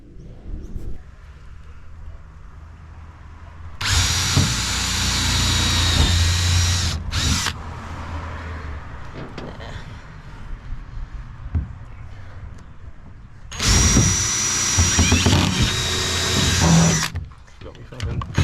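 A power drill drives screws through a tinny boat's floor into the framing beneath, two loud sustained whining bursts of several seconds each, close up, separated by quieter shuffling and handling noise.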